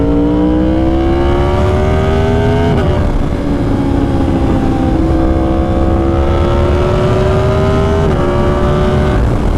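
Yamaha R1 sport bike with an SC Project CR-T exhaust, a loud close engine howl rising through the revs, clipped by quick-shift upshifts at about 3 and 8 seconds.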